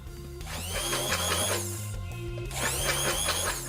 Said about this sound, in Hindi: अब हम क्रीम को इस तरीके के इलेक्ट्रिक ब्लेंडर या फिर हैंड ब्लेंडर से बीट कर लेंगे।